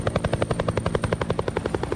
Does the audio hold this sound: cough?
no